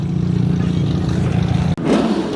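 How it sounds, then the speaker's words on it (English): Car engines rev at a car meet that is turning into a takeover, with a steady low rumble and a brief cutoff before the revving picks up again, close by and loud with no talk. "Man, they're revving it."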